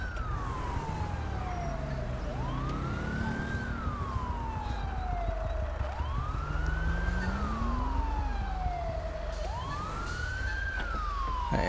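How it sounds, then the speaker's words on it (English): An ambulance siren wails in slow rising and falling sweeps in the GTA V LSPDFR police game, steady and fairly loud over low engine rumble, with no talk. "There comes my ambulance."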